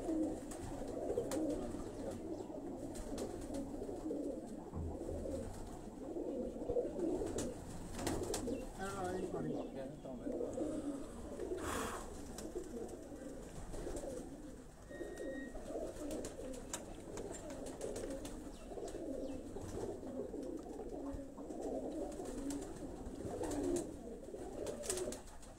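Pigeons coo steadily at a loft in a pigeon-keeping setting, their soft, low calls continuous and close throughout, mixed with background voices and faint chirps.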